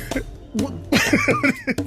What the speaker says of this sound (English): Listen, I had to sneeze.